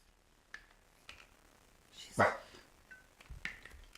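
A single sharp dog bark stands out in a quiet room, surrounded by faint shuffling and a few soft taps.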